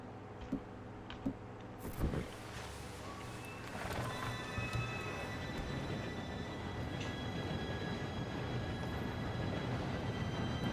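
Arriving train in Red Dead Redemption 2: a few faint knocks and a sharp crack, then a low rumbling roar of rolling wheels and carriages swells in and holds steady and fairly loud, with a thin squealing tone over it.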